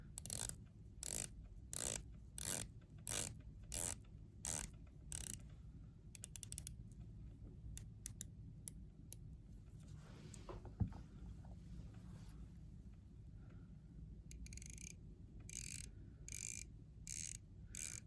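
Quick, regular ratcheting clicks from a rotating Breitling Chronomat watch bezel, faint and close, pausing in the middle before another run of clicks.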